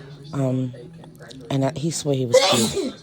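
A single sharp sneeze bursts out near the end of a short stretch of someone talking during a hair conditioner treatment, loud and close.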